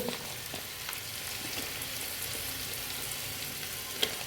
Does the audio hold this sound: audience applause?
no